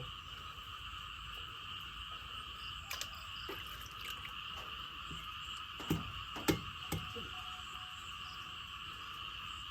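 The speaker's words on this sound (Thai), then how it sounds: "ถ้าใครได้ยินเสียงกบ เสียงเขียด" Frogs croak in a dense, steady chorus of layered trilling calls, broken by a few sharper, louder croaks and clicks close by.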